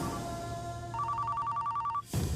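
A telephone rings with a bright electronic trilling bell, a sustained warbling tone repeating for about a second before cutting off, fairly faint beneath a low background hum.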